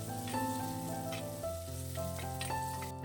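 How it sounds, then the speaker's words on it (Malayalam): Sliced onion sautés in a pan for ash gourd curry, giving a steady, close sizzle with a few stirring scrapes, under sustained musical tones for about three seconds. "ഇനി ഈ സവാളയൊന്ന് വഴറ്റിയെടുക്കണേ."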